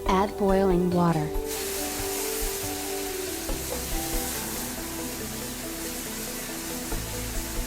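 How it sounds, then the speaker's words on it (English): Boiling water poured into a hot pan of lamb for Turkish tas kebab bursts into a loud sizzling hiss that settles into a steady frying and steaming rush, with a voice heard briefly at the start. "Add boiling water."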